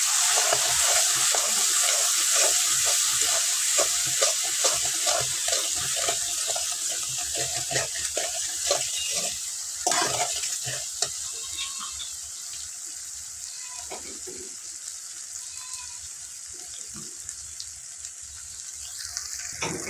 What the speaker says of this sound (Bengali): ভালোভাবে মশলাটাকে একটু কষিয়ে নিব।